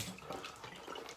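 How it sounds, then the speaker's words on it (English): Water trickling from a tap into a bowl of Clubman Reserve Cognac Neat shaving soap lather, a faint continuous splashing flow heard close up, with no talk. "I think I'm gonna add a little bit more water."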